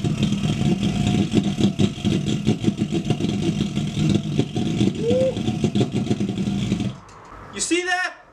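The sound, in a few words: 3D printed ThermoJet pulsejet engine running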